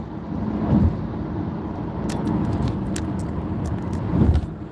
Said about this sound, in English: because I'm driving